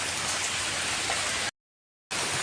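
Heavy rain in Mangaluru pours down as a dense, steady hiss, cut by a brief moment of total silence before the downpour resumes at the same loudness.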